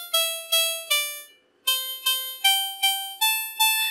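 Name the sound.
synthesized harpsichord notes from microcontroller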